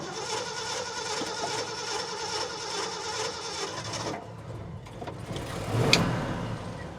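A 1972 Ford F250 4x4 truck's engine running steadily, then changing tone as the truck begins moving, with a louder mechanical burst near the end.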